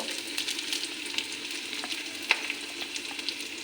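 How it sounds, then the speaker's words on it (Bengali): Crushed garlic goes into a hot pan with frying onion, a soft, continuous sizzle with faint crackles and an occasional sharper pop, heard close and alone. "রসুন খেতু করে রেখেছি ওটাও দিয়ে দেব"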